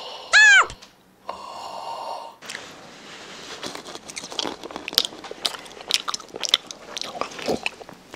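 Whole honeycomb bitten and chewed up close for an eating ASMR session, with repeated wet crunches and sticky smacking bites following a brief squeaky sound and a hum at the start.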